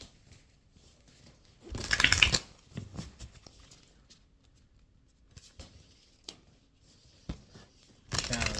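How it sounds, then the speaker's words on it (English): A deck of cards being shuffled up close, a loud riffling burst near the start followed by softer scattered handling clicks and another short riffle at the end. "Let's shuffle these cards."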